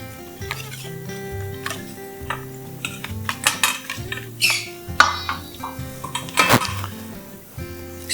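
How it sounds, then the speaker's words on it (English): Cooked, cooled spinach is stirred into a beaten egg mixture for a spinach and feta egg bake, with a utensil scraping and clinking irregularly against the bowl, close and fairly loud with no talking. "we're going to mix that in"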